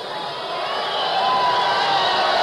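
A large, happy audience at the Hollywood Palladium on New Year's Eve 1968 cheers and shouts in a steady, dense roar that swells slightly louder toward the end.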